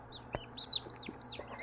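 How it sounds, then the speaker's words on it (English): Young turkeys and other birds in a reptile zoo give soft clucks and rising chirps, several short calls scattered across a quiet moment. "we actually got some birds here at the Red-Headed Reptile Zoo now"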